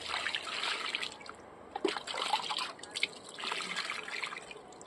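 Water poured onto a lotus tuber pot in a rooftop garden, a steady close trickle and splash with a few louder sloshes, no voices.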